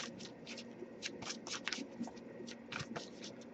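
Tarot deck being shuffled by hand, producing soft, rapid riffling and papery flicks in quick bursts, close but quiet, with nobody talking.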